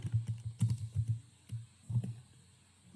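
Fingers type JavaScript code on a computer keyboard, a close run of soft irregular key taps in quick clusters with a short pause before a last louder press, no voices.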